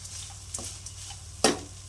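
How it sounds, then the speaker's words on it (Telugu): Poha frying on low heat in a pan, a quiet sizzle with a few scraping stirs and one sharper scrape of the spatula midway. "నిమ్మకాయ పిండాక కూడా సిమ్లో ఉంచుకుని ఒక 2 నిమిషాలు ఇలా ఫ్రై చేసుకోవాలి"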